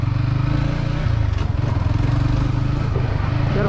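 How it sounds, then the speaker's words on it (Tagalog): Yamaha XSR 155 motorcycle engine while riding on a rough off-road track, a loud steady pulsing engine note close up with rattling, no pauses. "Pero ang lakas ng motor,"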